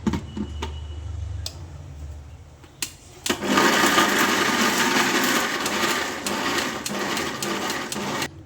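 A mixer grinder coarsely grinding capsicum chutney: after a few knocks and clicks, the motor starts into a loud, steady whir with rattling jar contents that runs to the end, heard up close.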